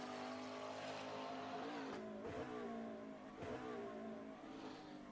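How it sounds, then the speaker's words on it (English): A McLaren 720S GT3 race car in Assetto Corsa racing at Sebring, its engine a continuous loud roar with quick revving blips as it drops through the gears into a corner, then pulls on steadily. "He goes down through the gears, understeering a lot through the final corner. Just gets back on the power."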